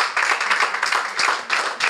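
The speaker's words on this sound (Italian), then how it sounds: "E l'applauso di loro che deve arrivare." A volleyball crowd applauds a player at the Caf Acli Stella Rimini 2017/18 team presentation, producing a dense, steady burst of clapping close by that lasts about two seconds without pause.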